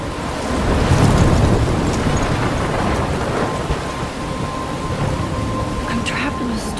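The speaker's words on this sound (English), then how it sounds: "I'm trapped in a storm?" Heavy rain pours steadily in the Life Is Strange video game storm, with thunder rumbling loudly near the start and a constant roar of rainfall and wind throughout.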